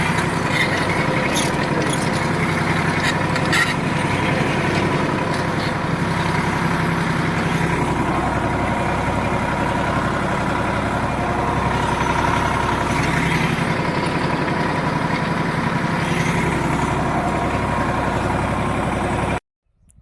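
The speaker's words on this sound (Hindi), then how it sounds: "आप देख सकते हैं भाई 3 किलोमीटर ट्रैक्टर चलाया जा रहा है।" A steady, loud tractor engine drone runs without pause in a field, a heavy low rumble with faint rattling, then cuts off abruptly at the end.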